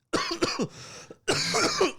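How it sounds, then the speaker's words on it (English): Several harsh coughs in quick succession, close and loud, with a short pause before another burst of coughing and throat clearing. "I got this fucking cough out"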